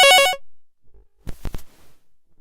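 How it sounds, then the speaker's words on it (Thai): A telephone gives a brief burst of an incoming-call ringtone, a loud, bright electronic melody that cuts off abruptly. A few short, sharp noises follow after a pause. "เดี๋ยวนะครับมีโทรศัพท์เข้ามา"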